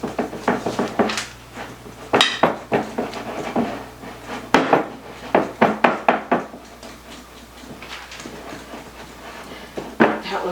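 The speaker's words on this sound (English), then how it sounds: "Give it a couple good whisks for me" Blondie batter being whisked in a bowl, a run of quick rhythmic knocks and taps against the bowl in bursts, close and fairly loud.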